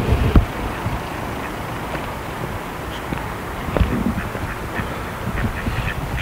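Ducks quack intermittently near floodwater from a swollen river, the calls mixed into steady wind and rushing water noise, with a sharp knock early on.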